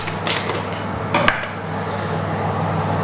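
Dry orzo pasta, about 300 grams, pours into a metal pot of lamb stew with a brief rattle and a few clinks of utensil on pot, over a steady background hum.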